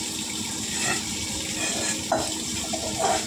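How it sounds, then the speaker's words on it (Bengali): Dishes being scrubbed under a running tap, a constant close rush of water with brief clinks and splashes as utensils are handled. "আমি ওখানে দাঁড়িয়ে বাসন মাজছি"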